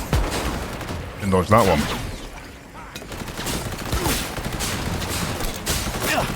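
Bursts of corrosive assault rifle fire in Cyberpunk Phantom Liberty crackle loudly and densely over a busy combat mix, while a player talks over the shooting.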